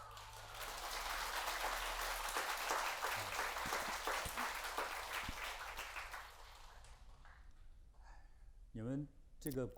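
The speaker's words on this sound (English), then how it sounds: "Your applause looks fake." Audience applause in a meditation and healthy living talk, a broad steady clatter of many hands for about six seconds that fades out, followed by someone speaking.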